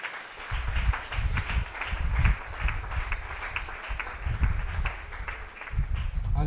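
Church congregation clapping in praise, a steady wash of applause with low thumps and vocal murmur mixed in, sustained and fairly close.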